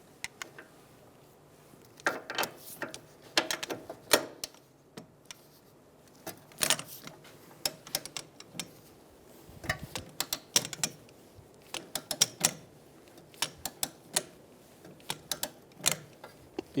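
Torque wrench clicks and ratcheting while tightening strut nuts on a 2007-2011 Toyota Camry rear strut and spring assembly, heard as scattered sharp mechanical clicks in irregular bursts, close and fairly quiet, with no talking.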